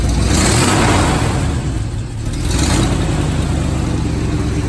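A 1978 Chevy engine with exhaust leaks revs steadily and loudly up close, a continuous roar with a brief dip near the middle before picking back up.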